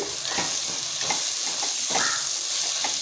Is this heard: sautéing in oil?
yes